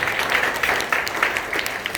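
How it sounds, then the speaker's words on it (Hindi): Audience clapping at a ring ceremony event in Surat, a dense, steady wash of applause filling the whole moment at close range with no voices on top. "एक बार जोरदार ताली।"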